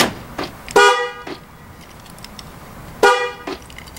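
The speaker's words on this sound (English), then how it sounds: "that's weird that it honked longer" Two short Ford Explorer car horn honks about two seconds apart, loud and close, with quiet background between them.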